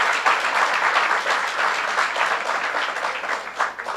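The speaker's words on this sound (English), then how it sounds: "Give yourselves a big round of applause for coming out in this cold weather." A crowd at a cold-weather community event in the Bronx claps steadily, in a dense, sustained wash of applause that holds at an even loudness throughout with no break.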